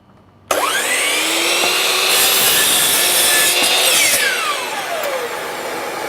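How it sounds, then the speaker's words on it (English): A slide compound mitre saw spins up sharply and bites into timber, a loud steady whining cut lasting several seconds before the blade winds down, heard close and alone. "you can start the saw and make your cut"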